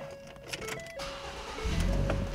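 Power windows in a Ford Escape with a black cloth interior whir as their electric motors run, a steady mechanical hum that stops and restarts, ending in a louder, fuller motor sound.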